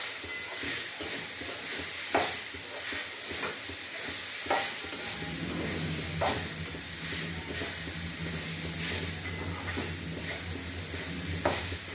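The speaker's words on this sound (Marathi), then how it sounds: "इथे मी 3 वाट्या खोबऱ्याचं किस आहे. ते चांगलं परतून घेऊया." Grated coconut roasting in a pan, stirred with repeated scraping strokes over a soft, steady sizzle that grows fuller partway through, close and alone without talk.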